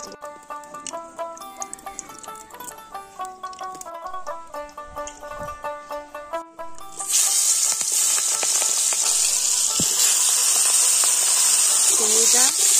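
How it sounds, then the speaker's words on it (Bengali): Prawns hit hot mustard oil in a wok and set off a loud, steady sizzle that takes over halfway through, after a stretch of background music. "চিংড়িটা হালকা করে ভেজে নেব।"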